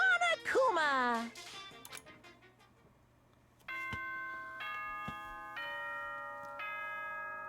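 Monokuma's announcement chime from Danganronpa rings out as a series of clear, sustained bell-like tones, four or so steady notes, following an animated voice speaking at the start.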